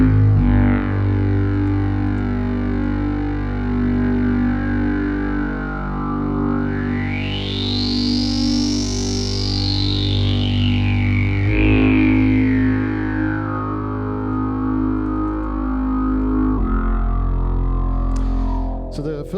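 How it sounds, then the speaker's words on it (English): A wavetable synthesizer patch with a state variable filter and reverb plays a sustained, buzzy tone continuously, with a filter sweep rising and falling in the middle and a reverberant wash, loud and alone. "this patch has the wavetable oscillator, and then it has a state variable filter, it has an envelope for the filter"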